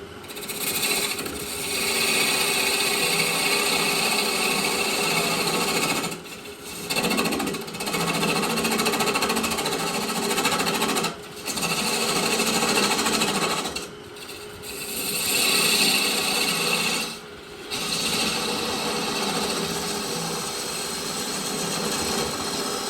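A 3/8 gouge cuts wood on a lathe in a steady, loud, rough scraping drone that carries for long stretches, broken by several brief pauses, with the blank starting to wobble and cutting hard.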